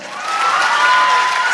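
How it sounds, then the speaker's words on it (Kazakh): A concert audience claps and cheers loudly, a dense roar of applause and shouts that swells in the first moment and then holds steady. "Шапалақ ұрыңыздаршы."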